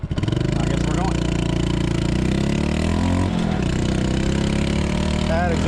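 Honda Super Cub motorcycle towing a trailer, its noisy exhaust droning steadily up close while riding, with a brief dip and shift in engine pitch midway as the rider moves along.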